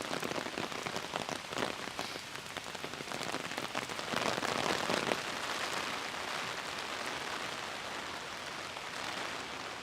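Heavy rain pours steadily onto an umbrella at Horse Guards Parade in London, a dense, continuous hiss and patter up close that swells in intensity midway, with no talking.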